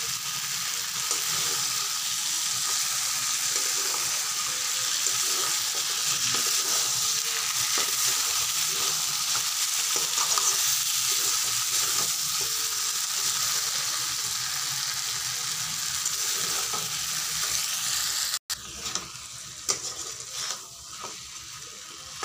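Bengali chicken kosha stir-frying in a pan: a loud, continuous close sizzle with occasional scraping and stirring knocks, then a sudden break followed by a few clatters as the frying quiets.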